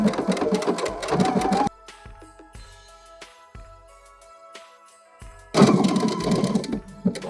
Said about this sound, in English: I have my J foot on for overcasting, and I'm ready to sew the seam together